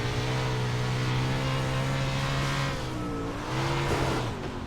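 Dirt race car in the iRacing sim game holds a steady, loud engine drone with harmonic bands, easing off briefly near the three-second mark, then revving back up and climbing in pitch, with no talking.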